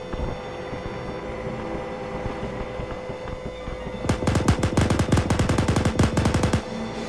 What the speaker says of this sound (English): Reloading machine gun.